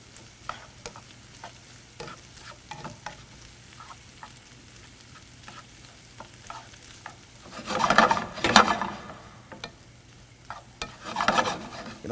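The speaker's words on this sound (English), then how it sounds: "you can hear that sizzle" Food sautés in a frying pan on a burner, giving a soft steady sizzle broken by scraping stirs, with louder bursts of crackling as the contents are tossed and stirred.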